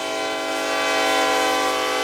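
Norfolk Southern freight train led by EMD SD70ACE No. 1162 with a GE ES40DC trailing, crawling along the main line; a loud, steady horn blast with rich sustained tones holds throughout, close and unbroken.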